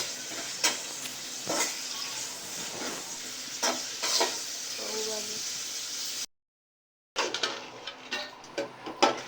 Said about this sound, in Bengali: তো এখন মরিচটা ভাজা হইতেছে।